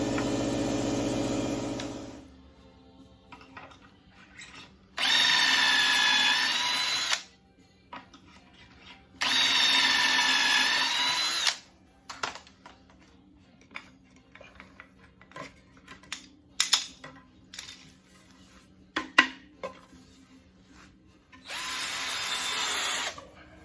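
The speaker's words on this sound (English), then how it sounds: "I think I'm going to have to make the pocket screws now" A power drill drives pocket screws into bedroom drawers for a modular camper, heard as four loud sustained whirring bursts separated by quieter clicking and handling clatter, with no talking.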